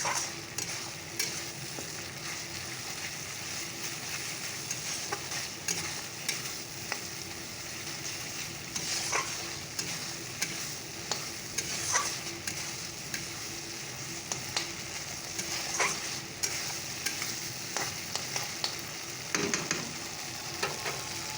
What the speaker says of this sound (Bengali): চলো এবার ভালো করে কষিয়ে নিই মশলাটাকে